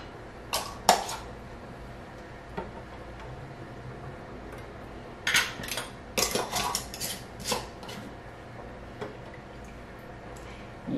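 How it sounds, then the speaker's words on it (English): Metal lids and rings go onto glass jars of homemade peach jam, giving scattered light clinks and taps, sometimes one at a time and sometimes in quick clusters, over a quiet kitchen background. "And put a lid and a ring on."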